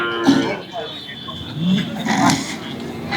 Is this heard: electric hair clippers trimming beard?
no